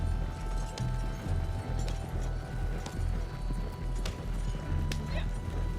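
A horse in Red Dead Online trots along with steady, rhythmic hoofbeats over low rumbling ambience. A person talks over the clip-clop throughout.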